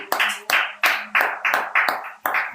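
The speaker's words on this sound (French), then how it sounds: "On acclame plus fort pour le roi. On acclame Dieu." A church congregation at a Montreal thanksgiving service claps in a slow, steady rhythm of about seven loud beats. The sound sits close and rings in the hall, with no speech over it.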